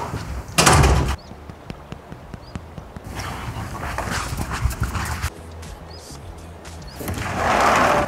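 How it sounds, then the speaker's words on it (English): A door bangs shut with a sharp loud thud, followed by scattered knocks, footsteps and shuffling, with a second heavier burst of noise near the end; no clear speech. "So no one heard the door."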